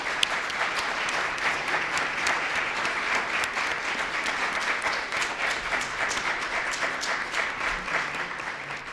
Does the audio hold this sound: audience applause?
yes